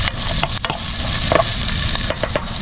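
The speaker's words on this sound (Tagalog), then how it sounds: "Tuloy natin yung paggigisa ng sibuyas, bawang." Onion and garlic sautéing in a pan for chicken adobo, a loud, steady close sizzle with occasional scrapes and clinks of stirring.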